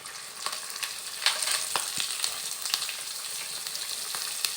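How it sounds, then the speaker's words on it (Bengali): Onion paste and garlic paste fry in oil with slit green chillies, a close, crackling sizzle full of irregular sharp pops and spits over a continuous hiss. "পেঁয়াজ এবং রসুনটাকে তেলের সাথে একটু ভেজে নেব।"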